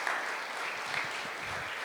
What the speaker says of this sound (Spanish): ¿Le puedes dar un fuerte aplauso a Jesús por esto?